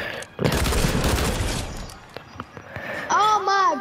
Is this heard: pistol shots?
yes